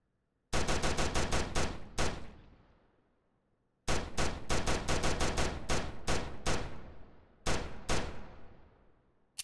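Rapid bursts of gunfire from a weapon in a Skibidi Toilet horror video game, two long volleys of repeated shots with a short final burst, loud and close with no talking.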